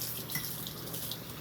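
Tap water runs into a sink while melon seeds are rinsed, a close, continuous splashing stream with faint gurgles.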